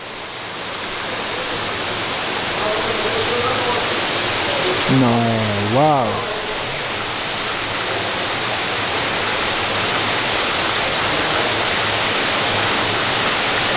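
Waterfall cascades inside a greenhouse fill the space with a steady, broad rushing wash that runs unbroken throughout, while a person exclaims briefly partway through.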